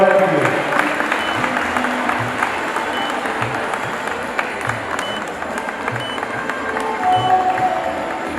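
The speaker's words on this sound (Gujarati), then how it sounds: "જોરદાર તાળીઓથી એમનું અભિવાદન કરીએ." Audience at a school function applauding as the school president is honoured, with sustained, fairly loud clapping from a crowd and a few voices mixed in over the whole stretch.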